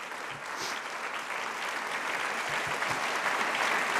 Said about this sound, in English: you deserve a huge round of applause for what you did with the governors